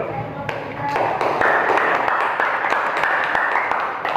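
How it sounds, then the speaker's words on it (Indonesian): A group claps together in a brisk, even burst of applause, fairly close, with a few voices faintly underneath. "Tepuk tangan dulu."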